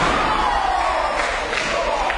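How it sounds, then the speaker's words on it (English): A wrestling crowd at a championship-week showdown roars and cheers in a continuous, dense wash of voices, loud and close throughout. "the crowd don't need any prompting to get behind the Coffeys"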